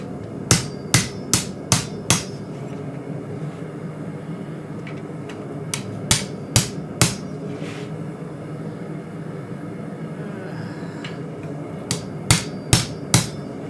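A hammer strikes hot mosaic Damascus steel being forged for a 3.5-inch hunting knife, sharp ringing blows falling in quick bursts of four or five, separated by pauses with faint background noise.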